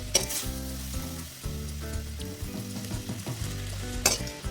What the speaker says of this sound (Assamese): প্ৰথমতে কম জুইত ভাজি ল'ব লাগে, পিছত অকণমান জুইটো বঢ়াই দি শুকানকৈ ভাজি ল'ব লাগে।